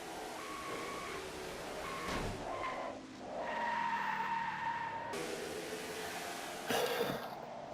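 A truck spins out during a replay of a NASCAR-style truck series race in a racing video game, with tire squeal and skidding over a steady engine drone, a rising whine, and a sharp burst near the end.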